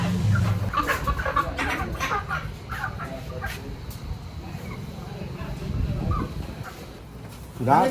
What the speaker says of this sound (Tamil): கோழி கோழி கோழி கோழி